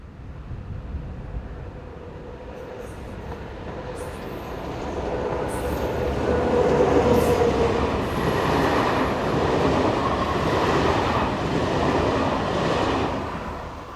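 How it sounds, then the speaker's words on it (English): A diesel-hauled intercity passenger train in France passing by, a rising rumble of engine and wheels on rail that builds to a loud sustained roar mid-pass with faint squeal, then eases as the cars run by. "These intercity trains are some of the last in France that are diesel-hauled."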